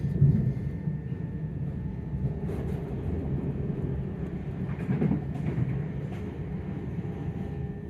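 A Gatwick Express train runs toward London Victoria past Balham, giving a steady low rumble of wheels and carriage with no break, heard from inside at a constant moderate level.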